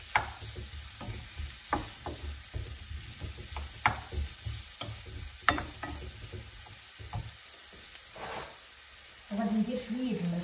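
Garlic frying in a pan, a gentle sizzle under repeated stirring scrapes, close up, with a voice speaking briefly near the end.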